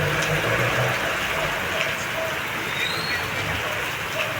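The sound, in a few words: steady rain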